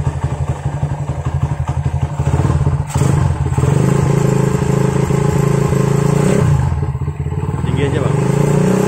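A Honda GL Max motorcycle engine with a full-wave charging conversion idles with a steady pulsing thrum, then is revved up to a loud, sustained high-idle drone, with a couple of dips as the throttle eases and returns.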